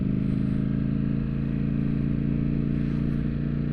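A Ducati Streetfighter V4S motorcycle accelerating in third gear, its engine giving a loud, steady, buzzing drone close by for the whole stretch, with no voices.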